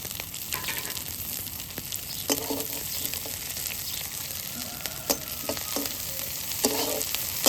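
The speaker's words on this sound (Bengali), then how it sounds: "এখন পেঁয়াজটা ভালোভাবে ভেজে নেব।" Chopped onions fry in oil in a pan at home, a continuous close sizzle with occasional sharper crackles and stirring knocks, without any voices.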